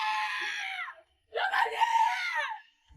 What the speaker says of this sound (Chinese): 紧接着就传来了保姆的尖叫声